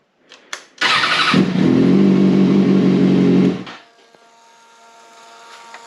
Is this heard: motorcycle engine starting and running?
yes